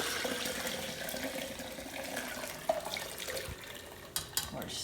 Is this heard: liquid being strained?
yes